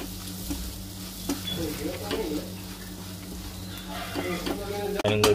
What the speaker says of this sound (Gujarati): ત્યાં સુધી ઓનિયનનો બ્રાઉન કલર ના થઈ જાય ત્યાં સુધી આપણે એને શેકવાની છે.